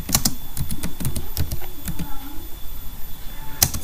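Computer keyboard being typed on steadily while entering C program code, with crisp close keystrokes in an uneven rhythm and a few sharper key presses, heard alone.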